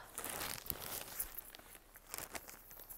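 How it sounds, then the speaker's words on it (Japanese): Scissors cut open a mail package wrapped in plastic with a sticker, giving close crinkling and tearing rustles with short snips, steady for about three seconds with no talking. "ハサミで切っちゃおう。"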